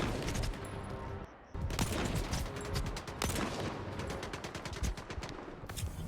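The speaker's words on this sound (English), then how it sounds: "apparently, shockingly, gunshots do more damage" Dense gunfire in the video game Stalker 2, rapid overlapping shots and bursts that nearly fill the stretch, loud and close, with a brief lull near the start.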